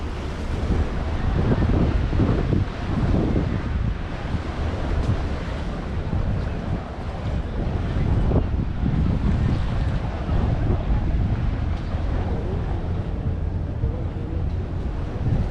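Steady roar of sea waves mixed with gusting wind buffeting the microphone at the Alsancak seafront in İzmir, Turkey, continuous and loud throughout with no clear voices.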